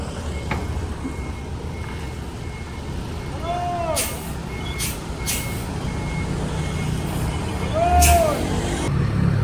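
The air brakes of a Primajasa Avante H7 bus on a Hino RM280 chassis release several sharp hissing bursts over a steady idling rumble at a bus stop, with voices faintly in the background.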